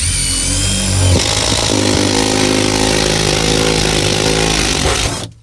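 A power drill fitted with a step bit bores a hole through sheet metal to mount an HVAC air purifier, giving a loud, steady, close whine that holds for about five seconds and then cuts off abruptly.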